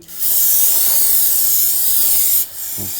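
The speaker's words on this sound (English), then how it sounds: "you want to spray the back side down with some brake parts cleaner" A loud, steady aerosol spray of brake parts cleaner onto a 2007-2013 BMW X5 rear brake rotor hisses for about two seconds, then stops abruptly.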